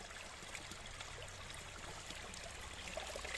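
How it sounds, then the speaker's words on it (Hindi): Running water streams steadily while someone washes their face outdoors in cold weather, a soft continuous splashing trickle, fairly faint and even throughout. "मुँह भी धो लूँ थोड़ा सा, बेहतर है"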